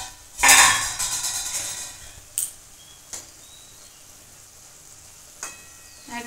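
A pot lid clatters open with a bright metallic clank while Bengali lau shukto, bottle gourd cooked until soft, simmers on the stove, followed by lighter utensil taps and a quiet kitchen background.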